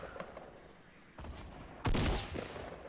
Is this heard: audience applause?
no